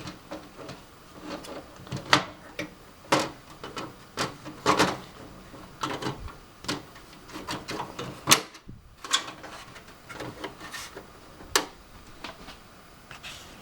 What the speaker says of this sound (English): To remove the front panel cover, simply push the latches, locking it in place on each side while pushing it inward